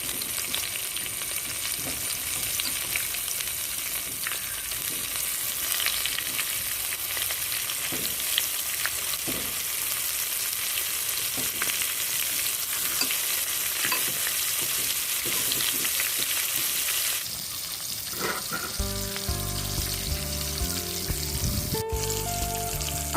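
Prawns deep fry to golden in hot oil, a dense continuous sizzle and crackle lasting throughout, close up, with the texture shifting to a more tonal clatter near the end.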